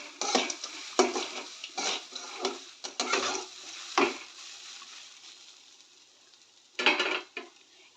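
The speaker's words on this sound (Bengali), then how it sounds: "এই পর্যায়ে সুজিটাকে অনবরত নাড়িয়ে নিতে হবে" Semolina being stirred in a pan while making jhal suji: repeated scraping and scratching strokes of a spoon against the pan, close and fairly loud, in uneven bursts with a brief pause near the end.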